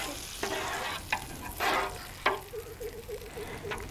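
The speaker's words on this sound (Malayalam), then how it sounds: "ഈ നെയ്യോടുകൂടി തന്നെ നമുക്ക് അണ്ടിപ്പരിപ്പ് ഇതിലേക്ക് ഇട്ട് കൊടുക്കാം എന്നിട്ട് അങ്ങ് ഇളക്കി കൊടുക്കാം" Cashews frying in ghee for a green gram payasam, a soft steady sizzle with several scraping stirs of a spoon across the pan, close and without talk, a faint wavering tone running under the final seconds.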